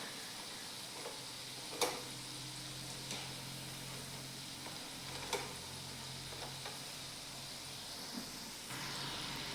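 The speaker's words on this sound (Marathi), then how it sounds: "त्याच्यासाठी आपण एकदम लो गॅसवरती हे कुरकुरीत होईपर्यंत तळून घेणार आहे." Fasting pakodas deep-fry in oil over low gas, giving a soft, steady bubbling hiss with a few sharp ticks and clicks of a utensil, fairly quiet and close, with no one speaking.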